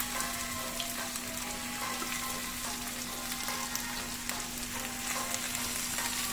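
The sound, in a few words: sausages frying in a pan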